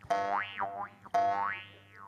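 Two close, loud jaw harp twangs, each sustained buzz sweeping up and down in pitch as the player shapes it with vowel-like mouth movements, with no talking.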